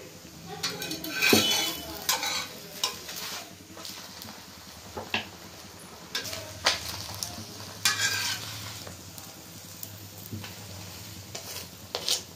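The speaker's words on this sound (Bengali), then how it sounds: "এটাতে আমরা তেল দিয়ে দিয়ে একদম পরোটার মতন পুরো সেকে নেব।" Paratha frying in oil in a pan, a low steady sizzle under repeated clinks and scrapes of a metal spatula against the pan, with faint speech in places.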